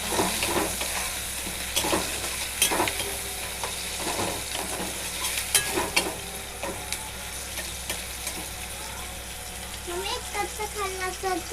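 Okra and onion sauté in a pan with continuous close sizzling and frying, and a spatula scrapes and clicks repeatedly as the vegetables are stirred, with faint voices in the background.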